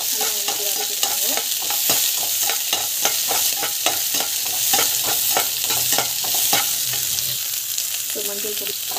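Mustard seeds, cumin, chana dal, onion and green chili sauté in a hot pan, with a steady sizzle under rapid, rhythmic spatula scrapes and taps repeating close by throughout.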